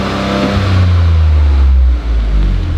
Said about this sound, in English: figure out how to rev the car